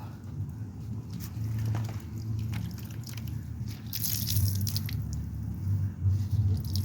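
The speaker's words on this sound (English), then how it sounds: "So you just squeeze all the extra water out." Soaked moss being squeezed by hand gives off soft wet squishes, crunches and drips of water, close and fairly quiet, with no talking.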